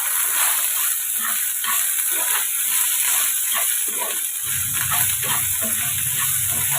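Ivy gourd stir-fry with chilli flakes and turmeric sizzles and hisses steadily in a pan, a soft constant frying sound with light stirring, no talking.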